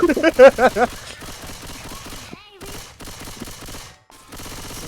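Gunfire in the video game Left 4 Dead 2: a loud burst of rapid automatic shots opens, then sparser, quieter shots and game noise follow, with someone talking over parts of it.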